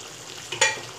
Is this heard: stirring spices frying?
yes